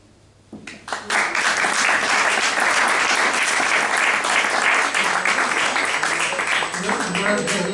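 An audience bursts into sustained, loud applause after a poetry recital by an Asturian poet, the clapping starting abruptly after a brief quiet moment and continuing steadily, with some voices mixed in underneath.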